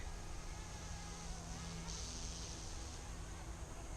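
Yu Xiang F180 RC helicopter flying in GPS mode, a thin, steady buzzing whine of small rotors and motors, fairly faint and distant, with no talk over it.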